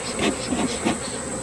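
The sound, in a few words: honey bees buzzing during hive transfer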